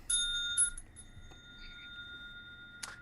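A bell rung to open a financial-themed podcast show: bright, ringing strikes near the start that decay into a sustained tone, then another short ring near the end.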